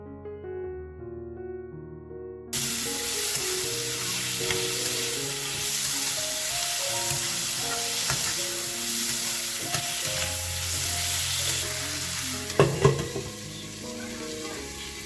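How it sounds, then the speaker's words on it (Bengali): Chicken pieces sizzle over browned onions in a hot wok, a steady, close, bright frying hiss with occasional stirring scrapes. Background music plays throughout and is heard alone for the first couple of seconds before the frying starts. "পেঁয়াজগুলো একটুখানি ভালোভাবে ভাজা হয়ে গেলে তারপরে ওই চিকেনটা এই পেঁয়াজের উপরে দিয়ে দিয়েছিলাম"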